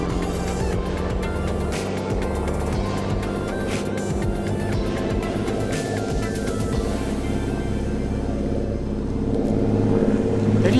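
A car pulls away from a quarantine dock, its steady low engine rumble running throughout and rising slightly louder near the end, with no talk over it.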